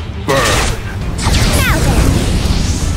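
A fire spell is cast in the role-playing game Octopath Traveler II: a sudden loud whooshing burst, then sweeping, rising magical tones over a dense, rumbling roar of flame that holds steady.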